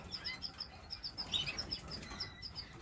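Caged breeding cock birds in a birdroom chirp and tweet in quick, overlapping bursts, a steady chorus of small birds with some faint fluttering.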